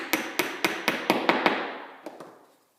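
A dovetail key is tapped into a glued wooden picture frame joint with about nine sharp hammer taps at a steady pace close up, the last two after a brief pause, then silence.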